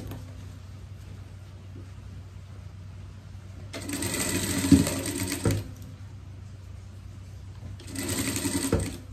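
Sewing machine stitching a lined summer pet outfit, running in two bursts of rapid mechanical whirring, the first about two seconds long and the second shorter, against a quiet room hum.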